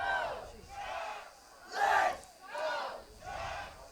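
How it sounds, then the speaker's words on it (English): Baseball crowd at a Madison Mallards vs Wausau Woodchucks game chanting in rhythmic waves, a fan-led "Let's Go Chuck" style cheer swelling and falling four times, loud and collective from the stands. "a fan here in the crowd has gotten the entire crowd energized"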